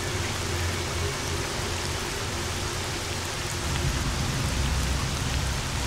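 Heavy rain pours in the video game S.T.A.L.K.E.R. Shadow of Chernobyl, a dense, loud, constant hiss of drops drumming on surfaces, with no other sounds above it.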